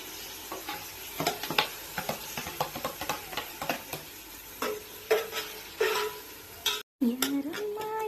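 Tomatoes stirred in a sizzling frying pan while cooking chicken at home: a steady frying hiss with repeated scraping and clacking strokes of a spoon against the pan. The strokes come irregularly, and a brief dropout occurs near the end.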